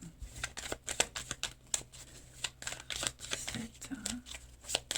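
Tarot-style cards being shuffled and drawn for a reading: a run of quick, dry papery snaps and riffles at close range, irregular in rhythm, with someone speaking French softly over them.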